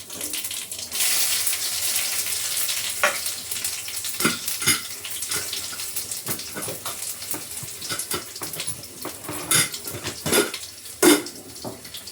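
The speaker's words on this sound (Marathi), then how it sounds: "मोहरी, जिरं, लसूण" Mustard seeds, cumin and garlic fry in hot oil, producing a continuous close hiss with scattered pops and spoon clatters, while onion waits to go in next.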